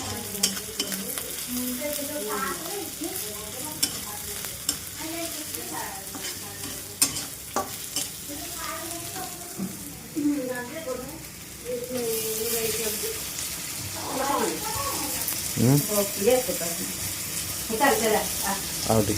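Stirring and frying onion, tomato and chili in butter in a pan, with a steady sizzle under scraping utensil strokes and a voice talking intermittently over the cooking.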